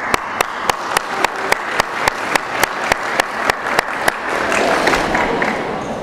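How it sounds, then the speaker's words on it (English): An audience at a 2014 school convocation applauds in a dense, steady round of clapping, with a few sharper, louder claps standing out at a regular beat near the front before the applause swells and rolls on. "I'm going to give you a round of applause"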